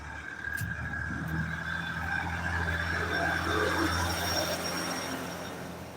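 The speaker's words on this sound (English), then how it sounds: "the sound of a noisy truck" A heavy vehicle rumbles past nearby, a sustained loud engine drone with droning tones that swells and fades over several seconds.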